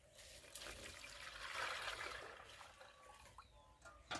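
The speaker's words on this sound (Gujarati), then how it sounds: "ઓય પાણી પડી ગયું છે" Water trickling and splashing down in a steady stream, fairly faint and somewhat distant, with no one speaking.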